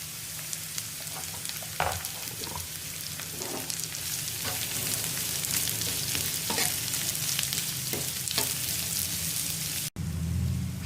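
Half a kilo of small-cut ridge gourd pieces fry with softened onions in a pan, a steady dense sizzle like rain, broken by occasional close utensil stirs and clicks before a brief break near the end.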